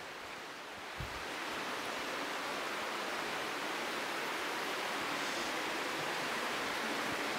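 Water rushes steadily inside a cave in Meghalaya, a constant broadband wash that holds at an even level throughout, with one soft knock near the start and no speech.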